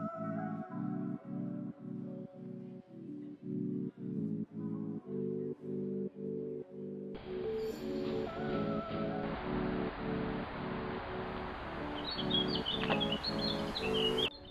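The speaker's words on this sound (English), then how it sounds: "do you hear the birds?" Birds sing in a city park garden, with chirps and tweets running steadily throughout, fairly quiet, over a repeating low rhythmic hum, and a broadband wash of ambient noise joining in the second half.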